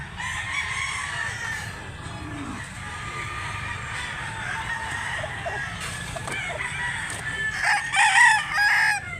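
A rooster crows among chickens on a farm in Mantalungon, Cebu, with steady clucking and a louder crow rising near the end, no voices.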